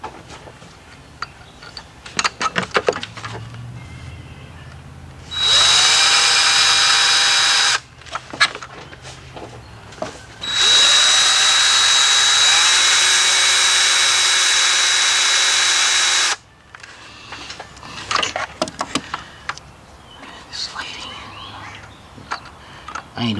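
A power drill whirs loudly in two sustained runs, the second longer, with clattering and handling noises before, between and after.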